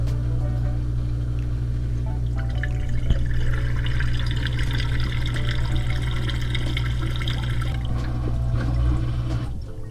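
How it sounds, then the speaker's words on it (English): Water drains from a FOTILE VersaWash SD1F-S1 produce cleaner and dishwasher, a steady liquid rush over a constant low machine hum with gurgling swells, close and continuous without voices. "Turn on the unit and turn it off within 5 seconds. The unit will start to drain."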